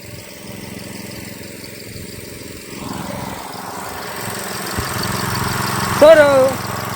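An engine-driven machine running on a Ratnagiri Alphonso mango farm, a steady mid-pitched mechanical drone close by, with voices talking over it and a brief louder tonal sound near the end.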